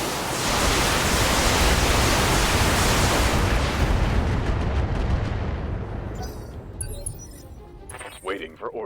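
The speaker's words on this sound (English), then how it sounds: "Firing on target" A mech firing its weapons in the BattleTech game: a heavy roaring blast of noise that fades over several seconds, followed by a few short clipped voice lines.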